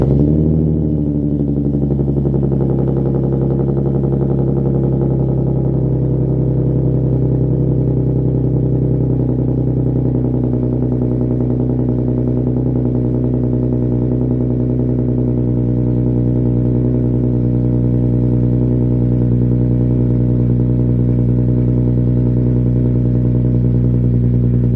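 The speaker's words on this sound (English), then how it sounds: "Now, let's hear the startup." An Infiniti Q50 with an ISR single-exit exhaust cold starts and settles into a loud, deep, steady idle that drones on without pause, heard up close in a driveway.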